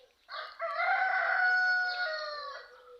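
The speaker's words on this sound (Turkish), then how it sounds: "Horozlar da ötüyor." A rooster crows once in a long, clear cock-a-doodle-doo, moderately distant, with no other sounds around it.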